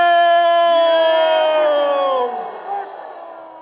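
A large crowd at a political rally chants a slogan in unison, a loud sustained roar of many voices that swells and then fades.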